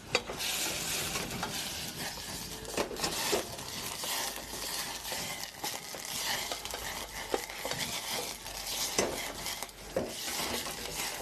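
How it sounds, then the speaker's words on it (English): Prawns flambéed with cognac in a hot pan give a loud, steady sizzle and crackle, with stirring and metal pan scrapes throughout, and no voices. "And that is flambe prawns."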